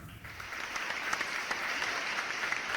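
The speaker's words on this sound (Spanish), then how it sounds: "Un fuerte aplauso para Cintia Verdejo." Steady audience applause fills the room from start to finish, a dense continuous wash of many hands clapping at an evening show.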